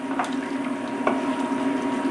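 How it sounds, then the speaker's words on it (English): Curry sauce with coconut milk stirred in a pan: a low, bubbling simmer under soft scraping, with a few sharp utensil taps against the pan spaced about a second apart. "And now we're just going to mix up the sauce."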